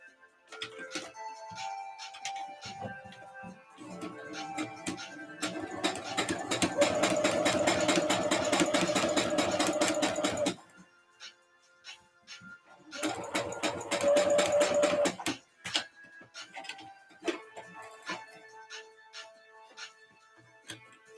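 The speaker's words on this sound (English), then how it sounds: "I've gone ahead and stay stitched these pieces" Sewing machine stay stitching corset pieces, two sustained loud runs of rapid needle hammering and motor whir separated by a pause, surrounded by handling clicks and fabric shuffling.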